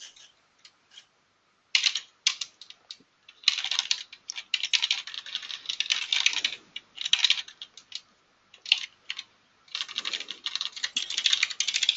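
Rapid clattering keystrokes on a computer keyboard arrive in bursts with short pauses between them, close and clear with no voices over them.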